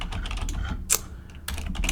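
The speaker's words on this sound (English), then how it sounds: "my typing skills are really bad" Fingers type on a computer keyboard while writing out a Python solution, a close run of quick uneven key clicks with a brief pause and then another burst, over a low background hum.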